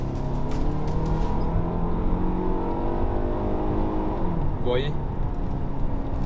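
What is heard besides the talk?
Hyundai Tucson engine revving and shifting gears in sport mode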